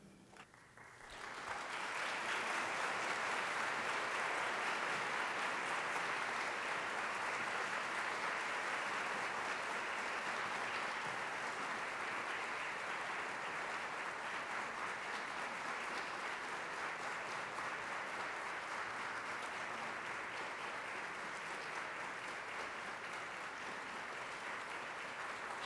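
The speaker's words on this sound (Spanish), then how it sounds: "quisiera pedirles que se pongan de pie y que les regalemos un aplauso" A large audience standing to give a long, sustained round of applause at an award ceremony, dense and steady clapping that holds for over twenty seconds with only a slight fade.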